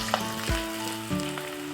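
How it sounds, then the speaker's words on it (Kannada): Drumstick leaf pakoda batter drops into hot oil and sets off a close, loud sizzle that holds steady through the brief clip. "ಇವಾಗ ಇಲ್ಲಿ ಎಣ್ಣೆ ಕಾದಿದೆ. ನಾನು ಇದಕ್ಕೆ ಪಕೋಡನ ಹಾಕೊಳ್ತಾ ಇದ್ದೀನಿ"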